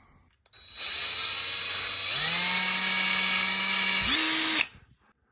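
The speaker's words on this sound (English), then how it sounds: "let's go ahead and drill these holes here." A power drill whirs steadily for about four seconds, drilling holes in rubber grommets, its pitch rising partway through and again near the end before it stops abruptly. No talking.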